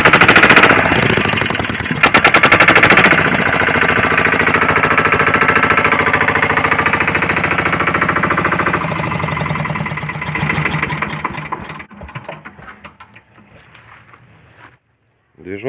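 A cold Goldoni mini tractor's diesel engine, run with the decompressor engaged, is cranked and starts, chattering in a loud, steady rapid beat close by before cutting out near the end.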